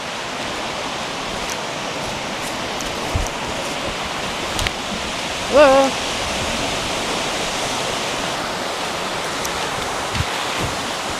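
Water in a creek rushes steadily in a dense, even wash of noise, close and loud throughout, with a brief exclaimed voice partway through.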